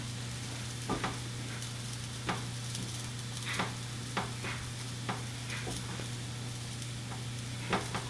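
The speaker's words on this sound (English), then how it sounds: "we're building a roux. This time it just has mushrooms in it." Mushrooms cook into a roux in a pan, a steady close sizzle with an underlying hum and about a dozen scattered scrapes and taps of stirring, no voices.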